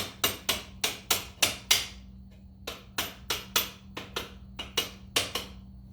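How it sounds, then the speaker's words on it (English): A hammer strikes a bolt back through the chain tensioner on a 1990s Honda Nighthawk CB250 motorcycle, about fifteen sharp metallic blows in quick bursts with short pauses, close and loud, no talking. "You have to start hammering your bolt back through."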